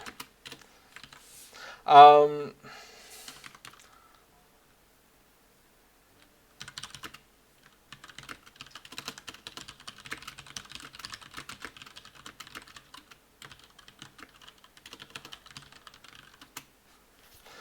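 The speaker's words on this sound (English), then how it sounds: "typing /festival should bring the main window forward" Keys clatter on a computer keyboard as a command is typed, rapid soft clicks in uneven bursts following a brief vocal sound near the start, close and fairly quiet.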